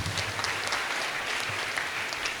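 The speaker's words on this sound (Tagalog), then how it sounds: "Sige, isang malaking palakpak para sa ating lahat." A big round of applause from the congregation at a Holy Mass, steady dense clapping filling the space, sustained and fairly distant.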